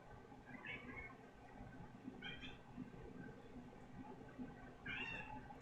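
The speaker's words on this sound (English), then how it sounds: "It's my cat." A pet cat meows three times indoors, short mid-pitched calls spaced a couple of seconds apart over a low, steady background hum, with no talking.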